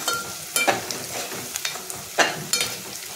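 Chopped onion with asafoetida, turmeric and spicy masala sautés in a pan for zunka, with repeated spatula scrapes and clinks over a continuous frying hiss, fairly close and loud.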